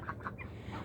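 Chickens fed on scratch grains give a few soft, close clucks in short bursts over a steady low background hum, with no one talking.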